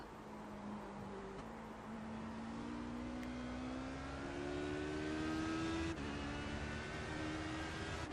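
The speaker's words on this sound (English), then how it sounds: "Hear me work the throttle." From inside an HPD race car during training laps at Watkins Glen, the engine drones steadily and climbs in pitch as the throttle is worked, dropping briefly at two gear changes. The sound is fairly faint, with no talking.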